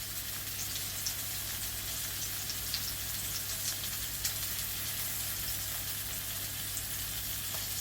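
A rib of beef sizzles in a pan with a little lard, a steady, close hiss of frying fat with scattered tiny pops and crackles throughout, no voices.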